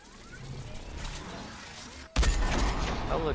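Gunfire in Fortnite Season 7 gameplay: a sudden loud burst of shots cuts in midway over ongoing game noise, followed by rapid echoing reports.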